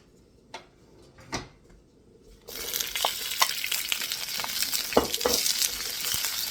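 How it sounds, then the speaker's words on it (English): Onions and peppers stir frying in oil in a wok for sweet and sour chicken: a few light knocks, then a loud, steady, close sizzle that starts suddenly partway through and holds to the end, with scattered scrapes and clicks. "You're adding a little oil to the wok. I'll stir fry the onions and the peppers."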